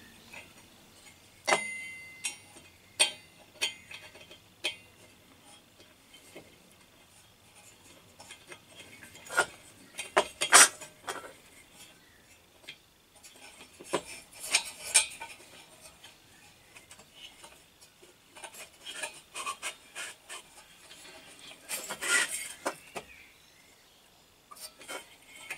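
A wrench works on a Primus kerosene stove, giving scattered close metallic clicks and ratchet-like ticks in irregular bursts over a quiet background for about 25 seconds.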